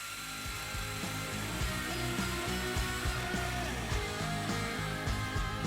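Power tool cutting mortises into wooden table aprons and legs, a continuous whining buzz with a slightly wavering pitch, close and steady.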